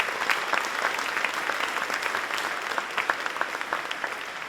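Audience at a federal Holocaust remembrance program applauds special guests, a steady, moderately distant ripple of many hands clapping with scattered sharper claps throughout.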